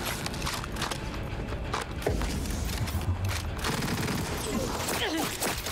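Gunfire in Cyberpunk 2077, a steady dense barrage of shots running the whole stretch with a heavier low burst partway through, loud and close with no talk over it.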